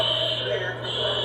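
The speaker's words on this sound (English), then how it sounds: "Tenants at the Moxie Ribby Apartments in Freeport are talking about the building's fire alarms." A fire alarm sounds in the Moxie Ribby Apartments building in Freeport, a steady high-pitched electronic tone with a constant low hum beneath, continuous and fairly loud.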